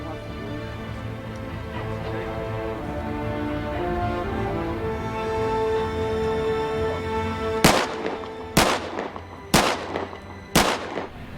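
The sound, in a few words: gun firing on a film set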